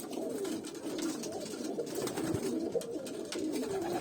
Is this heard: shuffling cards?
no